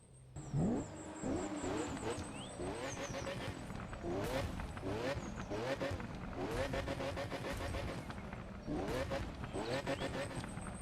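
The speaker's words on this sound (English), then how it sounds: "the engine sound on this car is insane" A Bugatti EB110 Super Sport engine in the video game The Crew 2 revs repeatedly, pitch climbing and dropping through gear shifts, loud and continuous with a whining high tone.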